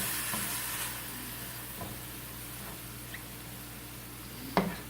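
Cumin-seasoned meat sizzles in a pan as it is stirred, a steady close frying hiss broken by a few scraping strokes and a sharper clack near the end.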